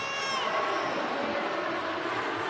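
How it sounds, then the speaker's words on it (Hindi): A dense crowd of visitors at Zar Zari Zar Baksh dargah in Aurangabad at night, a steady, loud murmur of many overlapping voices with no single sound standing out. "भीड़ भाड़ देखिए कितनी ज़्यादा भीड़ भाड़ है"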